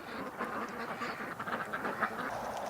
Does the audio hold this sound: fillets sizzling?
no